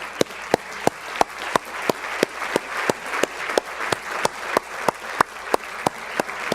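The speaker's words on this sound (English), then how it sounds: "would those people stand right now where you are so we can recognize you and give you an applause?" Audience applause at an education awards ceremony, a broad wash of clapping with sharp, regular louder claps standing out near the front throughout.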